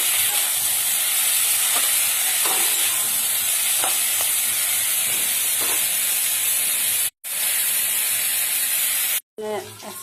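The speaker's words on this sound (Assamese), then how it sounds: "সৰু ধৰিব বেঙেনাটো পানীৰ লগত ফ্ৰাই কৰিছোঁ" Small brinjals fry with water in a pan in a village kitchen in Assam, giving a steady loud hiss and sizzle with faint stirring taps, cut by two short silent breaks.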